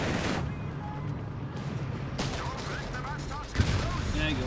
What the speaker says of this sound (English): Machine gun setting up shop.